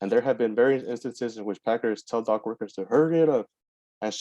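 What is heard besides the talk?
None of the usual background noises is heard.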